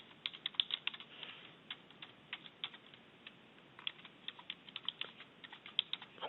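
Quick, irregular keystrokes on a computer keyboard as a college email address is typed, the clicks coming in short bursts with brief pauses, close and fairly quiet, with no voice.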